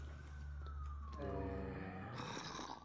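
Ambulance siren from a Minecraft mod, a rising electronic wail that grows louder and shifts into a warbling, pulsing tone as it seems to approach, filling the whole short stretch with no talking over it.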